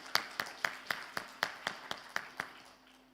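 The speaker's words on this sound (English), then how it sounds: "let's give our round of applause again to panelists and moderator" Steady, evenly spaced claps at a conference panel session, about ten sharp claps in a regular rhythm, fairly faint and a little distant, with a low hum underneath and no talk.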